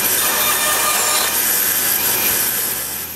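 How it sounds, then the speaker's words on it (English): Wooden domino tenons cut to size for a mitre station stop block, a loud, steady saw rasp running throughout, close and alone without talk. "Then, I cut the dominoes to size before drilling 2 holes for the T-bolts."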